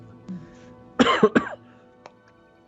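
A single harsh cough bursts out close up in a quiet room, two or three rough hacks in quick succession, then near silence.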